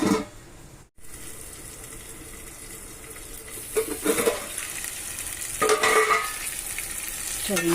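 Tomato, onion and green chili sizzle steadily in a hot pan for fish curry, a continuous frying hiss with brief stirring bursts and clatter, fairly close and with no talk over it.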